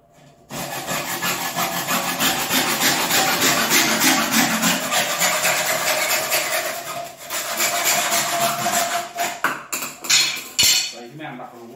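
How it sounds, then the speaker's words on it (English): A pipe for a toilet cistern being sawn by hand in steady, loud, rasping back-and-forth strokes up close, which slow and break into a few separate scrapes toward the end. "Make sure you clean all your burrs and everything off when you cut it"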